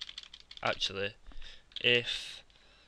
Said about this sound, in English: So if we type here,